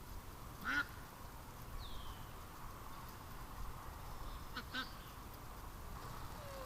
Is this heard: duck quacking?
yes